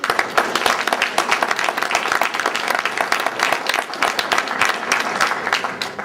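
An audience breaks into applause after a speech about government mandates, a dense, continuous patter of many hands clapping at close range for several seconds.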